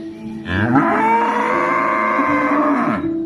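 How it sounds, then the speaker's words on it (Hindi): A cow named Lakshmi lets out one long, loud, drawn-out moo close by, rising and then holding before it fades. "उसकी गाय लक्ष्मी बहुत रो रही थी और वो बार बार रंभाने लगे।"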